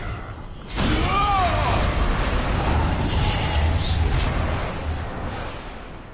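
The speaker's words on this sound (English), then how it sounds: "Your tower has been destroyed." A tower is destroyed in the mobile battle game Arena of Valor with a sudden heavy explosive boom that settles into a sustained rumbling blast, loud and close, with the game's voice announcements over it.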